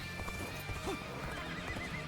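A horse in the video game Dynasty Warriors Origins gallops with quick clip-clop hoofbeats and lets out a brief whinny, fairly faint and heard among battle game sounds.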